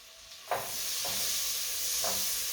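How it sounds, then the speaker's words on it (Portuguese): Chopped onion sizzles in melted butter for risotto, a steady hiss that rises when the onion goes in, with a few soft scrapes of stirring. "Então depois que a manteiga já derreteu, a gente vai colocar a cebola."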